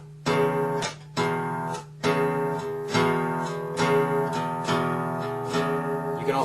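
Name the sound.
guitar blues shuffle in E without palm muting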